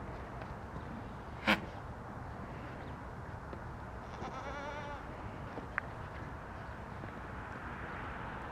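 A goat bleats once, brief and fairly close, at a goat handling and fitting show, with a bright click later and a low steady crowd and ambient murmur throughout.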